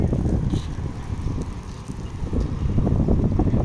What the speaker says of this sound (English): You hear the cool wind, the cool breeze.